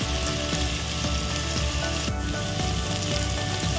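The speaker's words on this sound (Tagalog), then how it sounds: "Wait natin mag-brown ng ating sibuyas at luya" Onion and ginger sizzle steadily as they fry in a pan for shrimp sinigang, with light stirring clicks; a close, even crackle with no talk.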